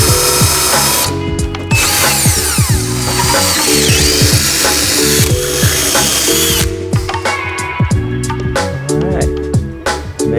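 A power tool drives bolts while a body kit is fitted to a vintage Porsche 911, with loud close whirring bursts and ratcheting pulses in repeated runs and brief pauses, and a person speaking intermittently between them.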